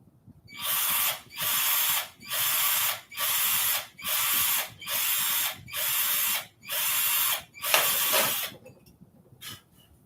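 A power drill bores holes in an aircraft structures test plate, eight loud bursts of high whirring, each about a second long with short pauses between, then a final rattling burst and quiet.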